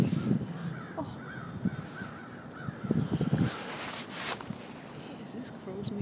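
Crows caw outdoors around a college campus area of halls: a series of rhythmic, moderately distant caws repeating across several seconds, mixed with footsteps, rustling and people talking nearby.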